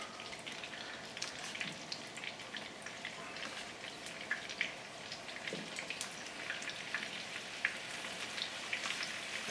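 Chicken fries in hot butter in a pan, giving a soft, steady sizzle full of fine crackles and pops, quiet and close, with no talking over it.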